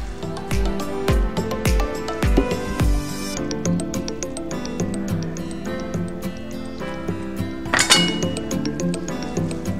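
A utensil clinks and scrapes against a pan or bowl while stirring a saucy noodle dish with oyster sauce, a series of close, bright metallic taps over a busy kitchen background.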